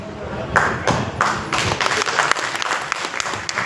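A political rally crowd breaks into applause, a burst of many hands clapping that thickens into steady, dense clapping for a few seconds.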